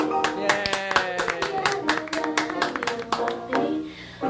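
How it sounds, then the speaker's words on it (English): Enthusiastic clapping from a live comedy podcast audience, a dense run of sharp overlapping claps that swells and fades across several seconds, close and fairly loud. "Everyone applauds."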